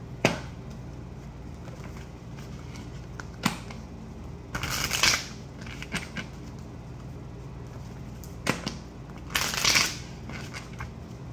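Playing cards are shuffled in two brisk, close riffling bursts, each a second or so long, with scattered soft taps and card handling between them and no talk.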